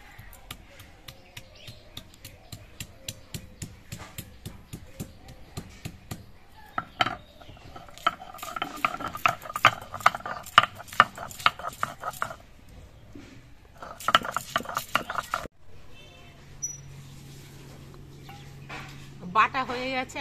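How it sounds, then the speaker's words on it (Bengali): Green chillies, ginger and garlic ground together on a stone, heard as a run of sharp rhythmic strikes followed by scraping and rubbing in bursts, with a low steady hum near the end. "এগুলো একসঙ্গে আমি বেটে নেব।"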